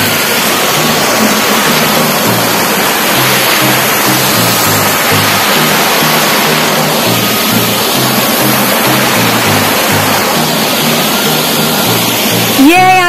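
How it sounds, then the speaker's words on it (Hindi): A waterfall of cold water in the Himachal mountains roars loud and close, a constant broad rush with a lower murmur of voices in the background. "जोरों से आवाज आ रही है झरने की।"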